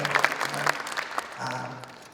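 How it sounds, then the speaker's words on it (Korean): A church congregation at a prayer gathering bursts into brief applause, with a low sustained tone or voice running faintly beneath the clapping. "우리 그룹 5 귀한 성도님들 격려의 박수 드립니다."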